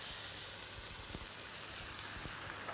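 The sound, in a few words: mince meat sizzling with chopped tomatoes added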